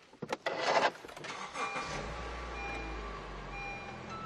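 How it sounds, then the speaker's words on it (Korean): A 2017 imported gasoline SUV engine cranks with a brief burst of starter noise, catches, then settles into a steady, low idle rumble. "제가 바로 시동 한번 걸어보도록 할 건데 이 차량 가솔린 엔진을 갖고 있습니다"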